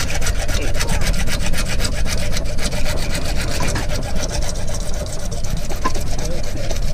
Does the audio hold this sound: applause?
no